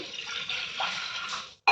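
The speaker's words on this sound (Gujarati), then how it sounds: "એક ગ્લાસ પાણી નાખશું" Water pours steadily into a pressure cooker with whole black gram for over a second, a bright splashing gush that stops abruptly, followed by a short clink.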